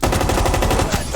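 LMG machine gun fire in Rainbow Six Siege: a loud, close, rapid continuous burst of shots rattling evenly from start to finish.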